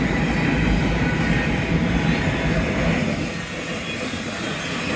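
BNSF 6591, a westbound intermodal freight train in Kingman, Arizona, rolls past with a loud, steady rumble of wheels and empty container cars, easing slightly toward the end.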